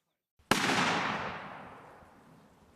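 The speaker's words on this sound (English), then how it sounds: "In rural Japan, a gunshot rings out." A single loud gunshot cracks out in rural Japan, a sudden sharp blast followed by a long, fading echo that rolls away over a couple of seconds.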